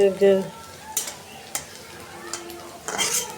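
Onions frying in hot oil in a pot for a hilsa fish curry, a quiet sizzle broken by a few clinks of a spoon against the pan and brief stirring bursts.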